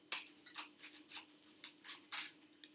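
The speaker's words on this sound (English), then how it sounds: "Let's just shuffle them." Tarot cards are shuffled on a table. A quiet, close series of soft riffling flicks and slaps comes at an uneven rhythm, about eight or nine bursts, with no talk.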